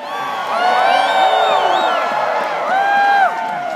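Outdoor Groundhog Day crowd cheering and whooping, a dense wash of many voices with rising shouts and cries swelling and holding steady throughout, fairly loud and close.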